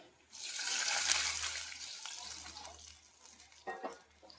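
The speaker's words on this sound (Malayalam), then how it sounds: "ഇനി കുറച്ച് വെള്ളം ഒഴിച്ചു കൊടുക്കാം" Water pours into a pan for a semolina breakfast dish, a steady broadband splash and hiss that starts abruptly and runs loud for a few seconds before tapering, with a couple of short splashes near the end.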